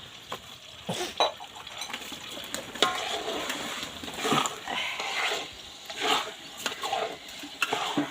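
Rice grains for pulao scraped and stirred in a pot with a soft dry sizzle, spoon clinking against the metal now and then, no voices.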